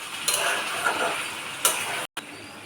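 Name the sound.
stirring bahari chicken with lemon in a pan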